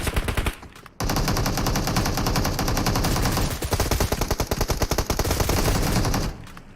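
A Kalashnikov assault rifle fires in PUBG Mobile, sustained rapid automatic bursts close and loud, broken by a brief gap and slight variations in rhythm.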